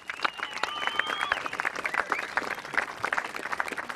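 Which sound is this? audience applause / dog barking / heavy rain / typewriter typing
audience applause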